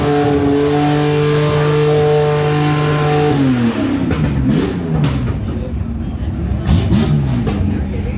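A vintage race car engine at the Goodwood Revival idles with a steady hum, then revs up and roars through rising and falling pitch sweeps, loud and close.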